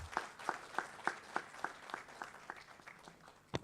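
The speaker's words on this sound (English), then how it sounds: "Give him a big applause." Audience applause at a hematology conference held at a Hyderabad hospital, heard as a short run of sparse, evenly spaced claps from a few people in a hall, fading out, then one final sharp clap.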